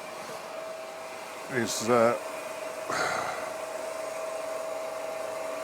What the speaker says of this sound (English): you can maybe hear in the background the bandsaw